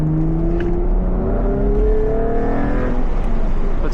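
A V6 Chevrolet Camaro drives along with a steady, close engine drone that rises in pitch as it accelerates, heard alone without talk.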